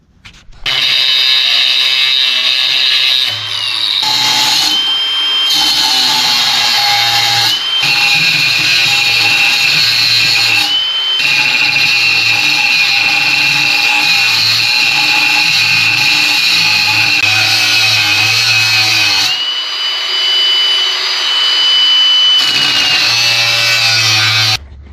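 A power tool grinds and cuts through leaf spring steel in long, loud, continuous passes with brief pauses between cuts, close to the microphone.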